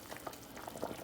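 Homemade chicken soup boiling in a small pot, a faint continuous bubbling and popping with soft irregular blips, heard alone.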